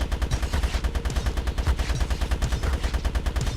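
Rapid, sustained SMG fire in the game GRAV rattles out as a loud, steady stream of closely spaced shots with a booming low end, running unbroken and with no voices over it.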